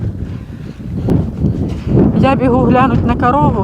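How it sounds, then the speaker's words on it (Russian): Strong gusts buffet the microphone outdoors on a farm, a rough low rumble running throughout while a person speaks over it. "Ветер просто сумасшедший."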